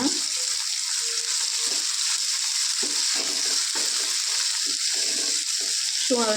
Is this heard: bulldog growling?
no